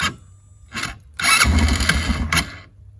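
Motoleader ML200 quad bike engine cranking over on a cold, slushy day: two short starter bursts, then the engine catches and runs rough and loud for about a second before settling into a low idle.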